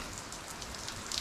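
Heavy rain pours down steadily in a dense, continuous hiss of drops striking surfaces, with no voices.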